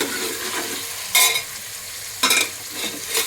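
Pulihora, tamarind rice, frying in a pan, with a steady close sizzle broken by two loud bursts of scraping and stirring.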